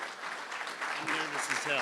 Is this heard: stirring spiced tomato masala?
no